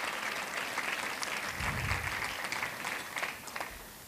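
Guests at the 2024 Boston Public Schools valedictorians luncheon give a round of applause, a continuous dense patter of many hands that holds steady for several seconds before tapering slightly near the end.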